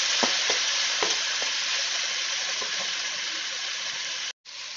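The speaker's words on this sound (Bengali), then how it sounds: "দেখো ভালো করে সিদ্ধ হয়ে গিয়েছে পেঁয়াজগুলো।" Onions sizzle and fry in a pan for a Bengali egg curry, a close, steady crackle broken by several scraping stirs of a spoon and a brief drop-out near the end, with no talking.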